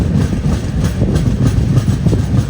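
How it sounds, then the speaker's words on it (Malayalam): The Goa Express, running from Vasco to Hazrat Nizamuddin via Dudhsagar, rolls into Kulem railway station as a loud, continuous heavy rumble with faint clattering of the carriages. "ട്രെയിനിപ്പോൾ കൂലേം റെയിൽവേ സ്റ്റേഷനിലെത്തി."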